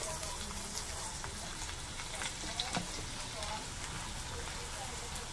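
Garlic frying in a little hot oil in a kadhai for a veg spring roll, giving a faint, steady crackle and sizzle with a few small pops throughout.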